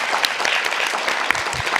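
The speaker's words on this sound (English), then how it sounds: "Big round of applause for all of our panelists." Audience applause for a panel of speakers at a White House forum, a dense, steady wash of many hands clapping close by with no voices over it.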